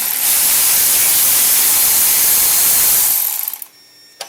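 A ratchet wrench works bolts loose beneath the starter of an old snowblower being restored, a loud steady whirring rasp lasting about three seconds before cutting off, followed by a quieter click.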